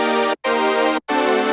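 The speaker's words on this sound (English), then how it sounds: "And the chord basically is two saw waves tuned on serum." A raw Serum chord preset built from two detuned saw waves, with five-voice unison, sounds as bright, buzzy sustained chords in three loud blocks split by two short silent breaks.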